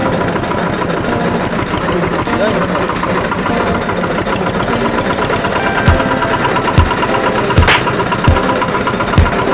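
A tractor engine runs steadily on a rain-soaked village road, a continuous low rumble with a few louder bumps near the end, while people talk over it.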